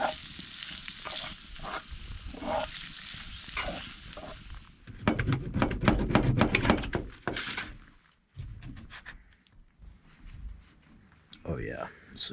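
Cream sauce sizzles and bubbles in a pan during overnight truck camping at Lake Mead, Nevada. The frying swells loudly midway with stirring scrapes, and a voice talks before and after it.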